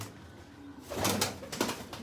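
A pet flying pigeon from a keeper's flock coos softly in a few low, throaty bursts that swell in the second half against a faint background.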